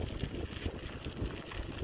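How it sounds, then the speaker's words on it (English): Wind gusts across a riverside campsite in a state park and buffets the microphone, making a rough, rumbling roar that swells and dips without pause. "Windy out here this morning."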